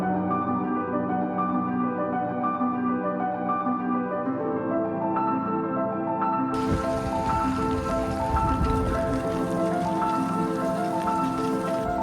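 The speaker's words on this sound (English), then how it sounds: "We woke up and it was pouring" Heavy rain pours steadily in Delft, a dense, even hiss of drops on hard surfaces that swells louder partway through, with a sustained tonal, music-like backdrop underneath.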